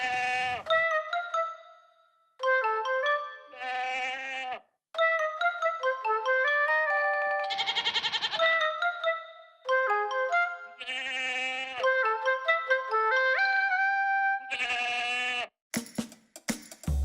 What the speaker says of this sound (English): Should we just go and get up close and personal with the goats?